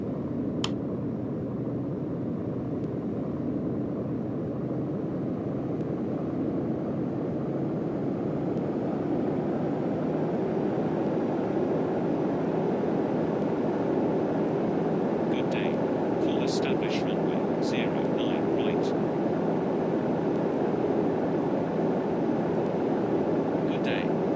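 An Airbus A321neo taking off at Heathrow in the RFS flight simulator game, with a steady, loud jet roar that holds for the whole stretch and a few faint high chirps partway through.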